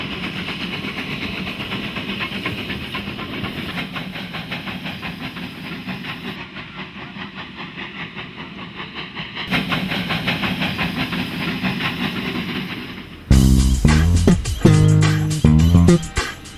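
Steady hiss of a Garratt 2-foot gauge steam locomotive, built for South African conditions, running continuously for most of the span with rumbling underneath, then giving way near the end to a louder, tonal sound.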